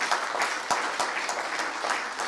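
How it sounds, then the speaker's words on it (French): A dense burst of audience applause fills a conference room after a four-person panel discussion, a steady wash of many hands clapping with a few sharper claps standing out near the front. "On vous applaudit tous les quatre."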